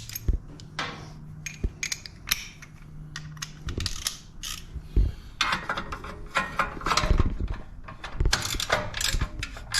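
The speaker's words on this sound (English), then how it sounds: "So I'm going to get a deep 1/2" socket." A hand ratchet with a deep 1/2-inch socket works on a Harley-Davidson motorcycle's exhaust, giving irregular bursts of close, sharp metallic clicking with brief pauses and small clanks between strokes.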